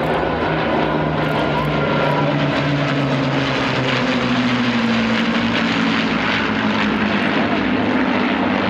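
Two Spitfires and an Avro Lancaster of the Battle of Britain Memorial Flight pass overhead, their piston propeller engines giving a loud, sustained drone. The roar stays steady and dominant, with faint crowd or announcer sound beneath it.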